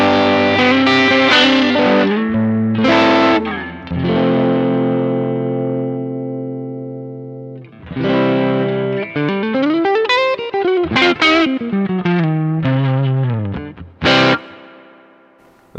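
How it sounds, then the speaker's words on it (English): An electric guitar runs through a very wet reverb pedal placed last in the effects chain, its chords and single notes ringing out loud with long washy tails, alone without any talking. "That's a really wet sounding reverb"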